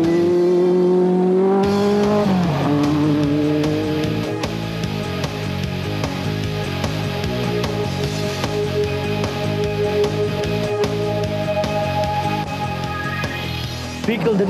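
A Castrol Toyota Hilux off-road race truck engine revs loud and close, the pitch climbing and dropping through gear changes over a steady rumble.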